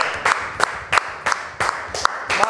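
A studio audience claps for a maestro on an Italian morning TV show, bursts of rhythmic, evenly spaced clapping that sound fairly close and loud, with no talking.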